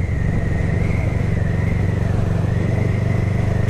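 A motorcycle ridden at about 60 km/h through a neighbourhood street, with a steady close engine drone and wind rumble and a faint wavering whine, continuous throughout.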